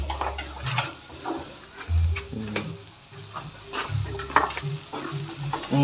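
Fried rice with village-style seasoning being stir-fried in a pan gives a steady sizzle with repeated scraping and stirring clatter, close and fairly loud, with no talk.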